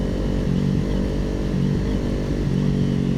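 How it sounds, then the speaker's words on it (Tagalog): Motorcycles rumble steadily nearby on a road trip along Marilaque, engines droning continuously with small rises in revs as they pass and no pause. "Ganda ng mga motor."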